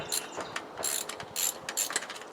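Rapid ratcheting clicks from a wrench snugging bolts on an 80cc motorized bike build, coming in quick bursts with brief pauses, close and steady with no talking.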